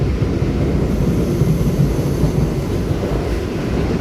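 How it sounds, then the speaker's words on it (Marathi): An express train passes alongside a moving Mumbai suburban AC slow local, making a loud, steady, broadband rumble and roar that fills the whole four seconds without any pause or voice. "आणि हे बघा अजून एक कुठली तरी समोर एक्सप्रेस ट्रेन आहे"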